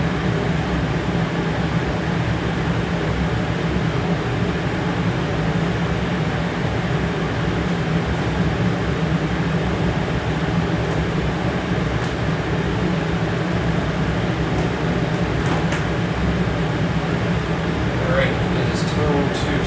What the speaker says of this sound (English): Hopefully you can hear me over the damned air conditioner.